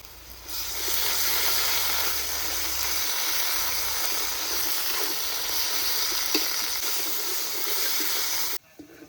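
Onions sizzle in hot oil with ginger and garlic paste in a home kitchen pan, giving a loud, steady, close frying hiss that stops abruptly at the end.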